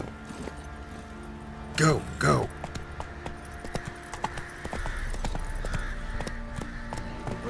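A horse in The Witcher 3 gallops with rhythmic hoofbeats and jangling tack, while a voice and game dialogue run over the top.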